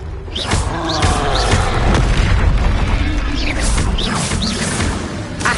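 Confringo blasting spells in Hogwarts Legacy go off amid dense combat, producing continuous loud booms and crashes with whooshing spell effects layered over a constant roar.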